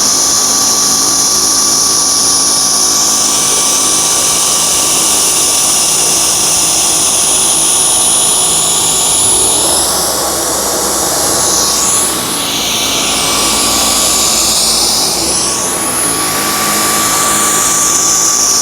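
A Dyson V10 cordless vacuum works over a fluffy, matted rug, its loud, high-pitched motor whine running continuously and close, with slight dips in pitch as the head is pushed through the pile.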